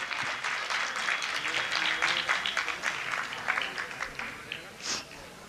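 Loud audience applause honours bravery at a Hindi stage programme, a dense and sustained patter of many hands that stays strong and then thins slightly toward the close.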